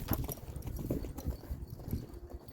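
A horse lopes, its hooves beating in a steady three-beat rhythm at close range. Low-pitched thuds continue through the whole stretch with no talk.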